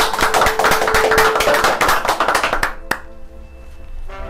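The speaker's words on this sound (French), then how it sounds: "On peut l'applaudir d'avoir été si franc." An audience applauds a participant on a French game show, with dense clapping for nearly three seconds that cuts off sharply, followed by quieter room sound and a few faint tones.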